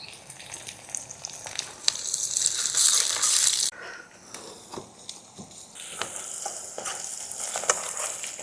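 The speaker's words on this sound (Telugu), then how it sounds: "గోంగూర ఇది పచ్చివాసన పోయేదాకా వేయించుకోవాలని ముందుగా గోంగూర వేస్తున్నా" Gongura sorrel leaves fry in a pan with onions for gongura chicken, giving a steady close sizzle that swells to a loud hiss before dropping back to a softer crackle with occasional stirring scrapes.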